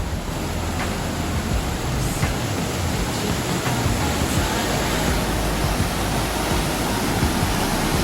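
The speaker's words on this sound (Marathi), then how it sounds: "या पायऱ्यावरून पाणी जे वाहतं ना ते वाहतं पाणी" Water pours steadily down stone steps, a dense, unbroken rushing wash heard up close, with no pauses or voices over it.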